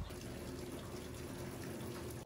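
Water running steadily into a bathtub being filled for a bubble bath, a continuous close splashing rush with no pauses.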